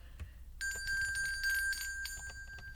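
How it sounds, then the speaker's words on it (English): A bell rung at a gathering, sounding as a sudden sustained bright metallic ring that starts partway through and holds steady to the end, with some scattered background knocks and movement. "Okay, so boom, we got the bell rung."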